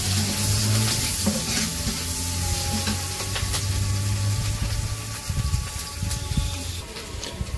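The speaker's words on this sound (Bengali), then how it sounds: "পেঁয়াজ কাঁচামরিচ দিয়ে দিছে।" Onion and green chillies frying in a pan for a village-style fish curry, a loud, close, continuous sizzle with stirring scrapes and a low steady hum beneath.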